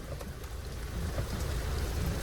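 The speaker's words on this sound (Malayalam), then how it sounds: "അയ്യോ ഭയങ്കര മഴ കേട്ടോ ദുരിത മഴ ദുരിത മഴ" Steady heavy rain pouring down, a dense continuous hiss with low rumbling underneath and no voices.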